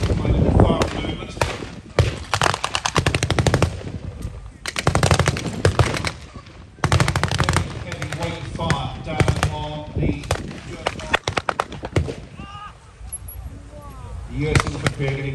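Rifle and machine gun fire crackle through an infantry battle reenactment at a tank show, dense bursts and single shots repeating loud and close throughout, with announcer-style talk at times.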